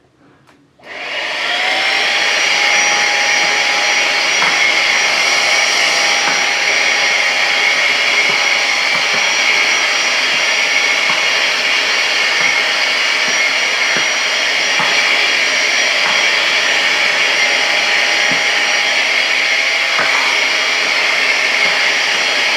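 A eufy HomeVac S11 Lite vacuum cleaner switches on and runs with a loud, steady whine and roar, with faint rattling of shredded paper being sucked in.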